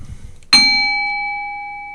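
A single bell ding struck at once, bright and clear, its steady ringing tone decaying slowly over the rest of the moment with nothing else heard.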